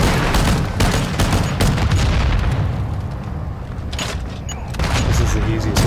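Gunfire in Call of Duty DMZ while shooting down a boss: dense, loud bursts of automatic fire and booming impacts, nearly continuous with a brief lull midway, with voices talking underneath.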